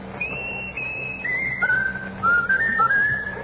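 A person whistles a short melodic tune of sliding, rising and falling notes, clear and close, with a faint indoor hum underneath and no talking.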